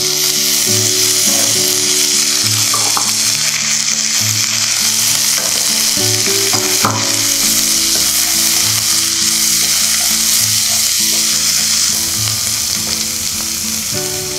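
Vegetables sizzle and fry in a pan with sautéed onions for a vegetable pulao, a loud continuous crackle with a spoon stirring and scraping through it.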